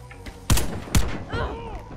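Dragunov SR semi-automatic sniper rifle in a shooter game, two loud close shots about half a second apart followed by a softer third report and ringing tail.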